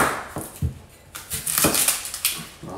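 An onion is cut with a knife on a board, a series of close, uneven chopping knocks and crunches, some in quick pairs, with no speech.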